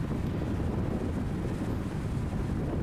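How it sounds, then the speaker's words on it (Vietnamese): Strong wind blows at a fishing port, a steady broadband roar buffeting the microphone, loud and continuous with no voices. "Sóng gió nói chung là giờ nó nổ lên quá"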